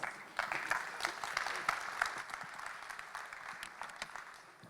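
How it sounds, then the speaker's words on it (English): An audience at a technology summit's morning session applauds a speaker coming on stage, a crisp round of clapping that swells early and gradually thins out toward the end. "Ladies and gentlemen, a round of applause,"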